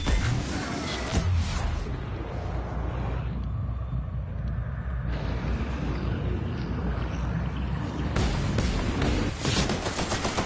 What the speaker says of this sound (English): Shrink gun.